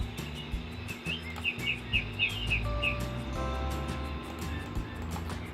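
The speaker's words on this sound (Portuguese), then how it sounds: "seria o som de água com passarinho." Birds sing in a natural setting beside a waterfall, with a run of bright repeated chirps followed by whistled tones over a low rushing background.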